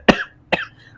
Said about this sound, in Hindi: खांसी आ रही है मुझे